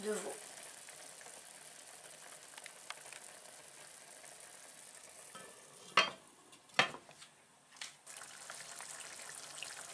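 Veal liver for Algerian kebda mchermla sizzling and frying in a pan, a soft continuous crackle with a few sharp bursts of louder spitting partway through, while a person talks now and then.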